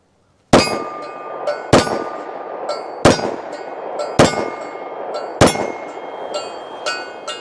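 Five 30 Super Carry pistol shots fired at a range, sharp loud cracks at an even pace about a second apart, each trailing a short ringing decay.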